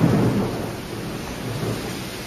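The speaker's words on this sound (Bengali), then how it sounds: "মারাত্মক ঝড় বৃষ্টি হচ্ছে।" Heavy winter thunderstorm with pounding rain and a low thunder rumble, loudest at the start and then easing into a steady dense downpour; no voices.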